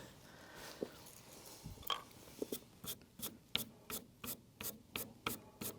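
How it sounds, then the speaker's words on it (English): Piano technician filing the felt surface of a Steinway Model B grand hammer: a run of about ten short, evenly spaced rasping strokes, close and fairly loud, after a few scattered scrapes and handling noises. "Just going to clean up the surface of the hammer a little bit."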